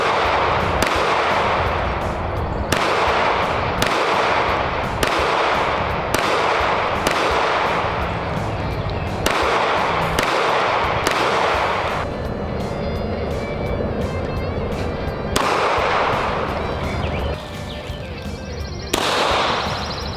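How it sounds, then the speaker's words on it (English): Sharp gunshots from a Tisas double-stack pistol at an outdoor range ring out in a steady series of about a dozen loud, evenly spaced reports with no talking between them. "if you can hold this gun, you can shoot it"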